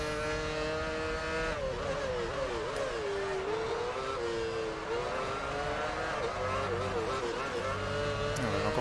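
Formula 1 race cars in the F1 Championship Edition video game whine steadily at high revs, the engine pitch rising and dipping through gear changes, with someone talking over it.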